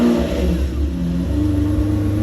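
Lamborghini engine on a warm start, settling into a deep, loud rumble with throaty revs rising and falling close by, with no talking.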